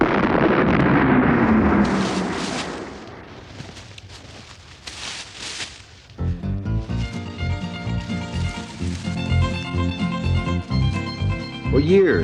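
A cannon net fires over wild turkeys at a corn-baited trap site, a loud booming blast that fades into rumble, followed by a burst of rattling turkey gobbles and flapping commotion.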